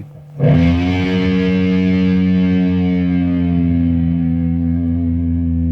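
A loud, heavily distorted electric guitar note, swelling in and sustaining, its pitch sliding slowly as it rings out.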